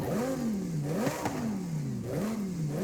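Lamborghini Huracan STO fitted with a racing exhaust, in Forza Horizon 5, revs up and falls back in a couple of long rising and sinking sweeps, near and steady with a sharp crackle at the peak.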